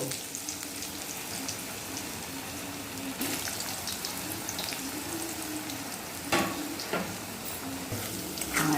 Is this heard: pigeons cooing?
no